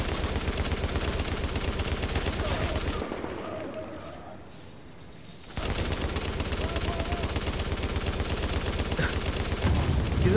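Heavy gunfire in The Division's Dark Zone, including enemy shotgun blasts, a steady loud barrage that drops away briefly mid-clip before resuming just as dense, close and continuous.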